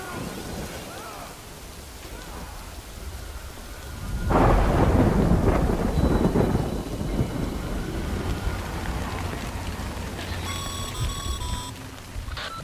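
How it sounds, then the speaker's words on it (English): Rain and thunder in a game world, a steady wash of rain with a loud rolling thunderclap swelling and fading, close and dominant, with a faint chiming tone near the end. "Good thing it was raining."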